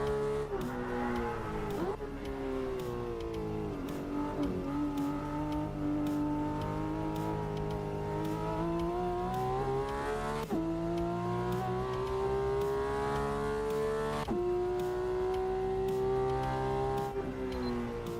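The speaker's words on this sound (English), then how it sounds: "it sounds and it looks in the game like a Porsche 911" Engine note of a game car made to sound like a Porsche 911 GT3 RS, built from a Volvo S60R with a BMW steering wheel, revving steadily with rising and falling pitch and gear shifts, loud and continuous without talk.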